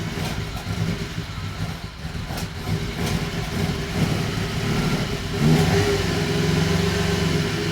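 A 1967 Ferrari 275 GTB/4 engine runs loud and close after starting, a rough, steady mechanical idle with small rises in revs and no talk over it.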